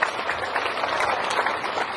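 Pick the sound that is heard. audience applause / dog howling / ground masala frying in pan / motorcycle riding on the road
audience applause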